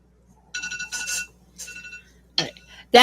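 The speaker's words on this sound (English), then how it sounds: "That's my alarm" An alarm clock rings indoors in short repeated bursts of electronic beeping, fairly close and clear, with brief pauses between bursts and a couple of sharp knocks near the end.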